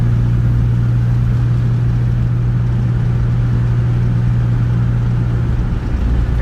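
An Austin Metro heard from inside the cabin while driving, with its exhaust run all the way out the back, giving a steady, droning low engine hum at constant speed with no talking.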